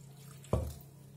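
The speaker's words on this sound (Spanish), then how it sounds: "Vamos a ponerle un poquito de agua aquí en medio." A small splash of water poured onto homemade bread dough, one brief wet burst about half a second long, close and fairly quiet over a low steady background hum.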